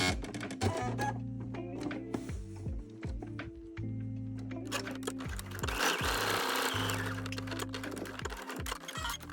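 A domestic sewing machine top stitching along the edge of a welt pocket on a street jacket, running in steady bursts of rapid needle clatter with brief stops and restarts, close and fairly loud.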